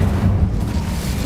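A fire spell, Incendio, goes off in the Hogwarts Legacy video game with a loud, deep rumbling whoosh of flame that fills the short moment without a break.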